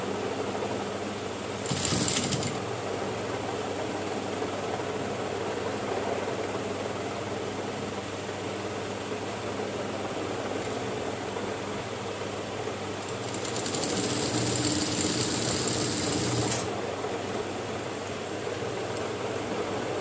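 A sewing machine runs steadily while stitching a double seam on a baby frock, a continuous whir throughout with two brief louder spells of faster stitching near the start and toward the end.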